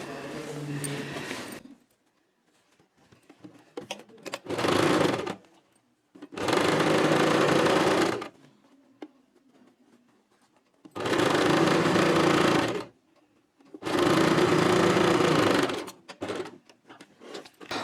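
A sewing machine stitching piping onto a princess-cut designer blouse runs in five separate loud bursts of a couple of seconds each, whirring close by, with quiet pauses of handling between runs.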